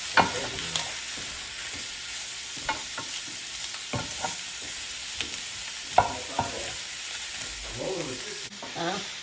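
Ground meat for lasagna browns in a pan with a soft sizzle as a utensil chops and scrapes it in scattered taps and strokes, close and fairly quiet.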